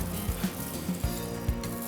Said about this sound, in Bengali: ফ্রাই করছি, ভেতরে কিন্তু ভেজিটেবল রয়েছে, চিকেন রয়েছে।